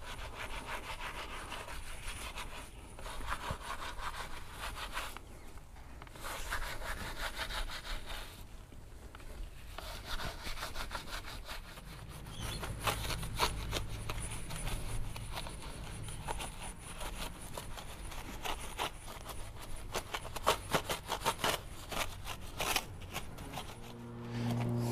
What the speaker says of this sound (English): Now we'll go with this easy detail brush.